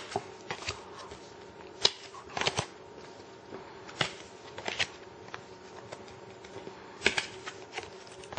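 Custom Malifaux Gremlin deck cards handled and flipped one after another, giving soft papery riffles and sharp flicking snaps at irregular intervals, close and fairly quiet.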